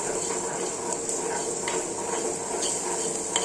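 Food is stirred in a pan over the heat, with a steady sizzling hiss under the scraping and light clinking of a spoon against the pan.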